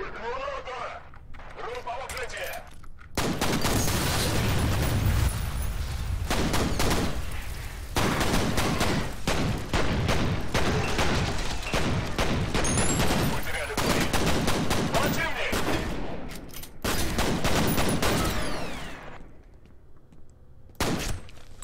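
Sustained bursts of gunfire from the shooter game F.E.A.R., loud and dense with rapid automatic fire in long stretches and brief pauses, with someone talking over it.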